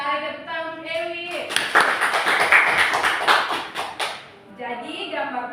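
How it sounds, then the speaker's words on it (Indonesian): A classroom of children claps for a classmate, a short burst of quick, crisp hand claps in the middle, with a teacher talking before and after. "Bagus sekali, tepuk tangan untuk Ewi."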